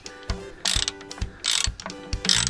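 A wrench ratchets in short clicking bursts while installing a car starter motor in a cramped space, three loud, close bursts of pawl clicks separated by brief pauses.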